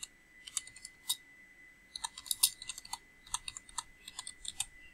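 Rapid clicking of keys on a computer keyboard, irregular bursts of typing with brief pauses, close and quiet with no voices.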